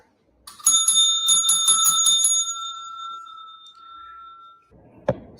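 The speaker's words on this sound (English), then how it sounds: "See, I'm dinging the bell." A bicycle bell dinged several times in quick bright bursts, its ringing tone sustaining and fading afterward, with a brief knock near the end; close and fairly loud with no speech.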